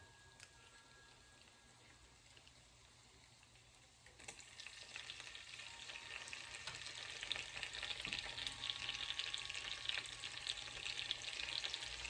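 Minced garlic starts sizzling in melted butter for chicken Alfredo, a soft, close frying hiss that begins partway through and slowly builds into a steady crackle.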